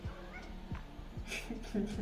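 A house cat meows a few times indoors, short mid-pitched calls standing out over a background of a person's talking and room noise.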